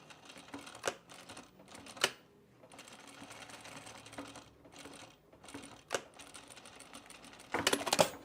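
A sewing machine runs in short bursts of rapid stitching, closing a seam on a Sylvan jacket, with brief pauses and sharp mechanical clicks between runs, close and fairly quiet.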